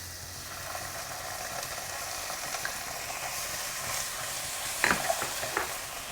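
Onion frying in oil with dried chili for a spicy stir-fry, a continuous gentle sizzle with a few light clinks and scrapes near the end, nearby and without speech.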